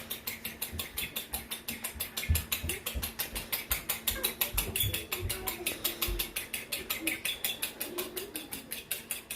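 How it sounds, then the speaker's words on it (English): Eggs being whisked in a bowl for scrambled eggs make a fast, even series of close ticking taps, steady throughout with faint background sounds. "I'm going to continue to whisk my eggs together"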